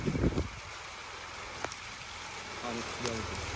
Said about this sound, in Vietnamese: Trời ơi mưa rồi.